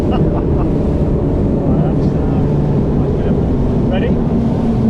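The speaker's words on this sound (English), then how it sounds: "I do a couple of figure 8 donuts just to put her on her side" A high performance powerboat carves figure 8 donuts at speed, its engine roaring loudly and constantly under heavy wind buffeting and rushing water.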